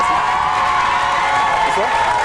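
A studio audience on a French television show applauds and cheers steadily as a guest is welcomed, a dense continuous wash of clapping with voices mixed in.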